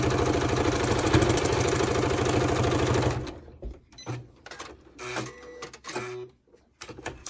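A sewing machine fitted with a walking foot quilts a fabric block, its rapid steady stitching loud and close for about three seconds before stopping, followed by scattered handling clicks and rustles.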